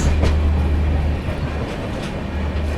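A passenger train on the New Delhi to Patna special route, hauled by multiple locomotives, rumbles steadily at speed while overtaking the Pawan Express, with a deep continuous roar and faint rhythmic wheel clatter, close and loud.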